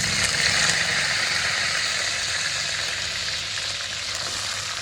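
Spices and curry leaves fry in hot oil in a pan for a Kerala chicken curry, a loud continuous sizzle and crackle close up, steady throughout with no voices.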